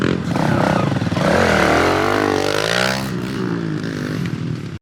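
Dirt bike engine revving up and down close by, a loud continuous rising and falling whine that holds steady for several seconds before cutting off abruptly.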